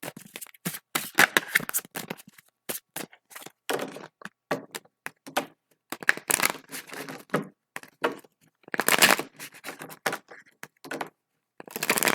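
Tarot cards are shuffled repeatedly in quick, crisp riffling bursts with short pauses between, close up and fairly quiet, with no talking.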